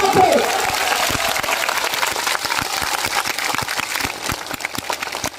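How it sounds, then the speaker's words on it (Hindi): At an outdoor political rally, a large crowd breaks into loud applause that fades into sparser, distinct claps, with an engine idling and crowd noise underneath. "जोरदार ताली बजा के स्वागत करो"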